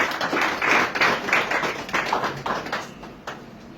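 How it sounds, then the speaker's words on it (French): A small audience claps in encouragement at a testimony event, a brisk, fairly close patter of hands that tapers off near the end. "On va applaudir encore s'il vous plaît pour l'encourager."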